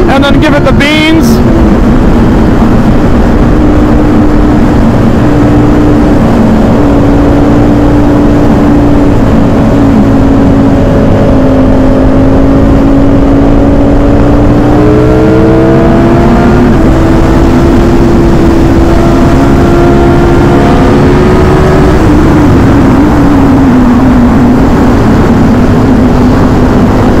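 A Ducati motorcycle engine roars hard and close on a California road, a loud sustained drone that climbs gradually in pitch under heavy wind noise, then dips slightly near the end.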